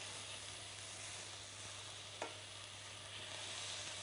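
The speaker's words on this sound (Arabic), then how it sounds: "بنبدا نحمر البصله بتاعتنا" Onion frying in a pan as the base for a béchamel dish with minced meat, a quiet continuous sizzle with one brief clack of a utensil partway through and no talk.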